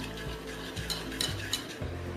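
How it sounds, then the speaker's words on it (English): Chocolate and cream being whisked together into a smooth ganache, a soft, steady scraping of the whisk against the bowl that rises in a few brisk strokes, close and quiet with no voices. "now we are going to start whisking it through"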